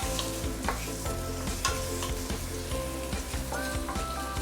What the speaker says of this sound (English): Oh, I can smell my garlic oil already. It's very fragrant. Just fry a little bit.